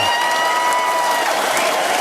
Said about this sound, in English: I think we got to give a round of applause for that